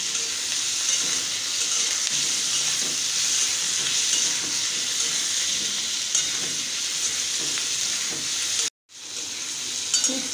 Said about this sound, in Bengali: খুব কড়া করে ভাজবো না